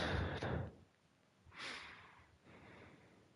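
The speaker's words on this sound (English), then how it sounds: "You can hear me breathing." A person breathes heavily and audibly close to the microphone: a loud snort-like exhale, then two softer drawn-out breaths with quiet pauses between them.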